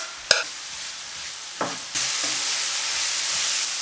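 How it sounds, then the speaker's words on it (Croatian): Chopped leek drops into a hot pan of vegetables for homemade soup cubes, a sharp clatter followed by a strong, steady close sizzle with occasional stirring knocks, no speech. "Dodajem prazi luk."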